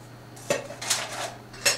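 A titanium MSR Titan kettle knocks and scrapes against a metal stove windscreen band, with a few sharp clanks and metallic rattles close by, no talking.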